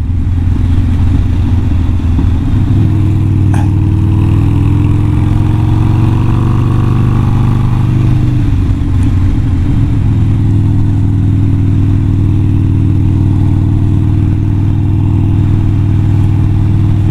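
A Harley-Davidson Sportster motorcycle rides down a twisting valley road, its engine a steady, loud rumble with slight rises and falls in pitch and the rush of wind throughout.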